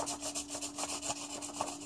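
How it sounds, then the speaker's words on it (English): Steady, rhythmic scratchy rubbing of sandpaper across a hard carbon fiber surface between layup layers, quick back-and-forth strokes, close and fairly quiet. "A little sanding before every layer is actually really good."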